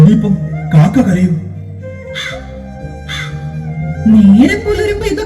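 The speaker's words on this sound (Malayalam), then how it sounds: "ഇനിയിപ്പം കാക്ക കരയും." Loud crow caws come in short harsh bursts, several spaced calls in a stage play scene at daybreak, with voices around them.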